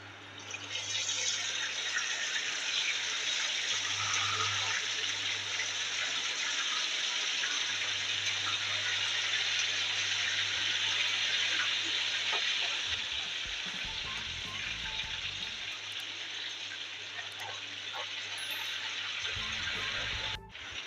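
Chicken pieces for a steam fry roast frying in a pan: a loud, continuous close sizzle and hiss that holds steady throughout, with a low hum and brief bumps of movement near the end.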